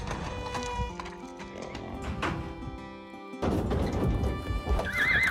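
A wild mustang whinnies loudly over the steady drumming of hooves, then the galloping of wild horses swells louder with more neighing near the end.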